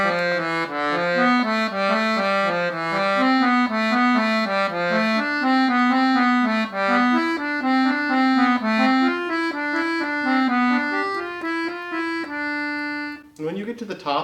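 Accordion working through a Palmer-Hughes Book 2 scale exercise, steady reedy notes climbing step by step in an even, moderate rhythm, loud and close, ending on a held note before a brief rustle.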